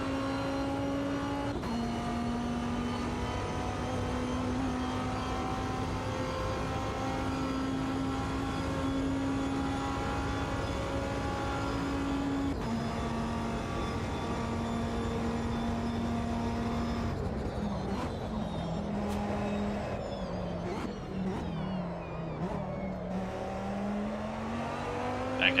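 A 2005 endurance race car in AMS2 drones at steady high revs, then throttle blips send the engine pitch jumping up and down in quick bursts, loud and continuous with no talk.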